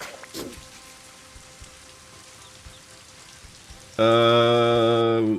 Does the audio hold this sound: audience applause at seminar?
no